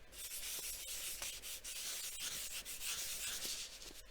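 Dry foam rubbed in gentle circular strokes to press gilding flakes into sticky cracks on a craft surface, giving a steady, close, soft scratchy brushing that continues alone without pause.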